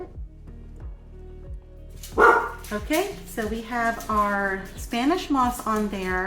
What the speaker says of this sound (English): if you guys hear my puppy dogs in the background